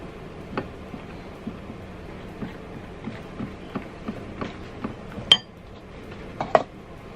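Banana cake batter with brown sugar being mixed in a bowl: soft, steady clinks and taps of a utensil against the bowl, roughly two a second, with a couple of louder knocks near the end, close and quiet, no talk.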